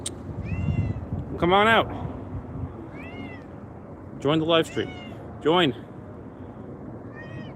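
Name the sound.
cat meowing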